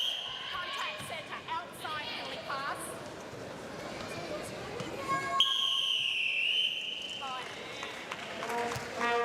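A referee's whistle ends a netball match between South Africa and England at the 2010 Commonwealth Games, sounding as a long shrill blast amid crowd noise, squeaking shoes and a commentator talking.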